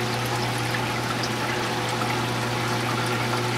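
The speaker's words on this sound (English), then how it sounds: "Barely trickling to the overflow, so I definitely need to adjust that just a little bit" Water from a home aquarium trickles steadily into the overflow, a constant close wash of running liquid with a low hum beneath and no pauses or voices.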